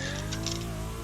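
A BMW E46 sliding through a corner on track, a loud, close engine holding a steady high note with faint tire scrubbing over it.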